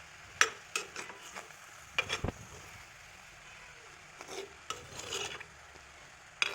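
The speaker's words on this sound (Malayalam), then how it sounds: "പൊടിഞ്ഞു പോകാതെ മെല്ലെ ഒന്ന് എല്ലാം കൂടെ കൂട്ടി യോജിപ്പിക്കുക." Gentle scraping and rubbing of a spoon stirring fish in a cooking pot, a series of soft intermittent rasps and clinks spread over several seconds, close up with no talking.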